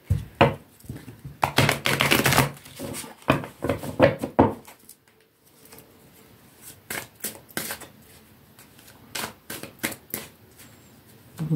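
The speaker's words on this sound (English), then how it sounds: "Just give the cards a good shuffle." A deck of tarot cards being shuffled by hand, with bursts of rapid riffling and tapping clicks, loud at first and then lighter, intermittent card snaps close by.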